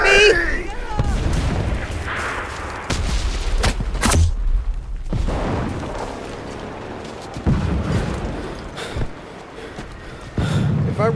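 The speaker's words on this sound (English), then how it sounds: "That grenade was at me!" Grenade blast and bursts of gunfire in the World War II shooter Enlisted, loud booms and rattling shots rising and falling over about ten seconds, with a voice talking over parts of it.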